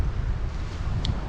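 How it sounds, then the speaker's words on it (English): Wind gusting through birch woodland, a steady low rushing roar with buffeting against the microphone, close and continuous. "you can hear that wind in the background"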